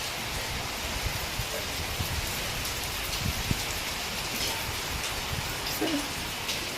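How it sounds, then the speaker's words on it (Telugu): Heavy rain pours down steadily in a sudden downpour, a dense, continuous hiss with scattered close drops pattering on surfaces throughout. "వర్షం విభత్సంగా పడుతుంది"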